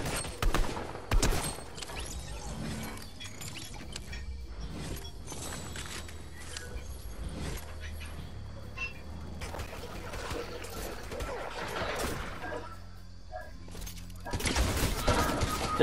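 Scattered gunfire in Fortnite, sporadic shots and short bursts popping at moderate distance across a quiet stretch, ending in a louder cluster of shots, with voices talking over parts of it.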